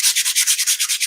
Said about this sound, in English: Sanding is intriguing.